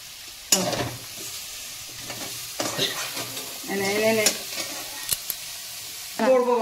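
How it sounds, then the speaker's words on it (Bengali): Meat sizzles and spits steadily in a pan while a spatula scrapes and stirs it in bursts, with occasional louder clatters and a faint voice now and then. "এদিকে মাংস ভাজা হচ্ছে"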